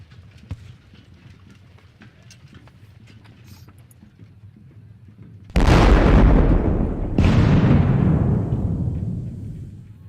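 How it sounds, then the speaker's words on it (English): In a Battle of Quatre Bras video game, muffled rumbling and clopping give way to two heavy booming blasts in quick succession, each decaying into a long, loud roar of battle noise. "All that gunfire to kill one dude."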